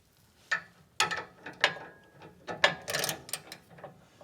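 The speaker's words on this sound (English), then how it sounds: "you're going to remove that with the same 18mm socket" Ratchet wrench with an 18mm socket loosening a sway bar bolt on a 2019+ Ford Ranger, several separate bursts of clicking pawl strokes, close and crisp with short pauses between.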